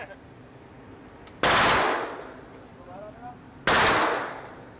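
Two loud gunshot bursts crack out at an indoor or outdoor gun range, each sharp onset trailing into a decaying echo, with brief voices talking in the gap between them.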